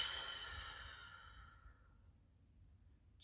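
A single deep exhale, a soft breathy sigh that fades over a few seconds, quiet and close.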